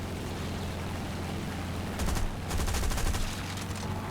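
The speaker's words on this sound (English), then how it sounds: "Getting the cannons back right in time." Aircraft cannons fire from a Boomerang Mk I fighter in the combat game War Thunder: two short rapid bursts cut through a steady engine drone.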